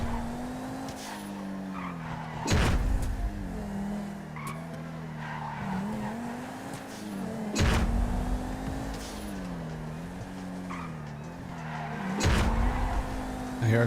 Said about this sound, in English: I hear a car behind me